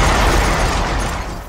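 A Hydra shot from a unit in the strategy game Battle Worlds Kronos strikes a Hunter, giving a loud, dense explosive roar that rolls on for over a second and slowly fades.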